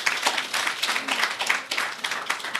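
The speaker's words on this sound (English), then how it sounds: "let's have a round of applause for them" Staff at an enterprise's annual gathering applaud together, a steady crowd clapping that holds even for the whole stretch without voices.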